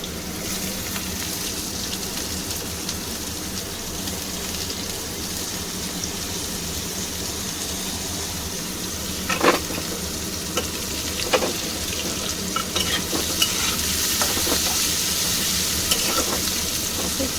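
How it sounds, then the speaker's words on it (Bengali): Onion frying in hot oil with garam masala, a continuous close sizzle with occasional stirring scrapes and small sharp crackles, growing slightly busier toward the end. "পেঁয়াজটা আমি একটু লালচে কালার করে ভেজে নেব"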